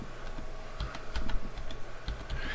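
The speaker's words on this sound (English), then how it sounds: "Now, let's go and type in Micro Center." Computer keyboard typed on in short irregular clusters of light clicks, quiet and close over a steady background hum, with no voices.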